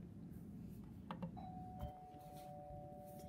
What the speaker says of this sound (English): And then they have a doorbell here that you can push.